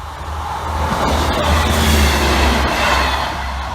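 Great British Rail Freight train nearing a level crossing, a loud, steady rumble with rhythmic wheel clatter that swells and holds close by, with no talking.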